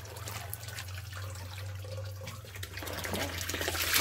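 Water pours steadily from a kitchen tap with some pressure, a continuous running and splashing stream with a low hum underneath, while tamales de frijol are being made; no one speaks.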